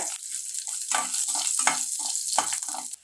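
Garlic cloves frying in oil with cumin and chana dal for a ponnanganni keerai and egg stir-fry crackle and sizzle in a brief, close, bubbling burst, with no talk.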